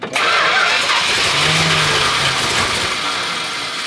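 A 383 V8 car engine is started for the first time, turning over and catching into a loud, rough, steady run that stays close and fills the whole stretch with no talk.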